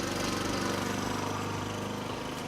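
A neighbour's lawn mower runs close by, its engine droning loud and continuous with a fast rhythmic pulse throughout.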